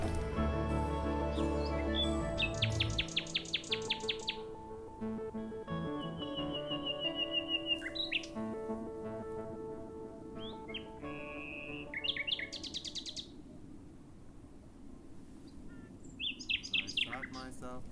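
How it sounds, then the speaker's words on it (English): Nightingales singing outdoors at night, with rich varied phrases of rapid trills, whistles and chirps repeating throughout, moderately close over a quiet background. "we are spending these nights as we are now outside listening to nightingales sing"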